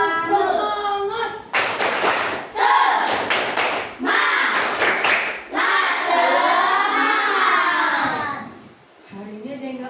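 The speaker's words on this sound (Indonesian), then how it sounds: "Tepuk semangat." A primary-school class of children does a rhythmic cheer, chanting together with bursts of clapping and patting in a set pattern, loud and close, mixed with their voices.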